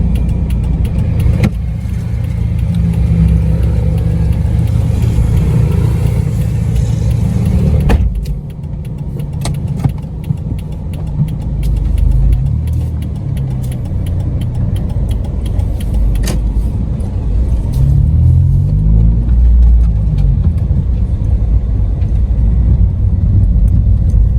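A vehicle engine hums and revs steadily as it is ridden in, close and fairly loud, with a low rumble and occasional knocks and clunks; no one speaks.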